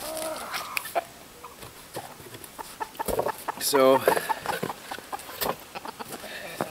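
Backyard chickens on an off-grid homestead cluck nearby in short bursts, one louder squawking run rising above the rest, with a person speaking briefly over them.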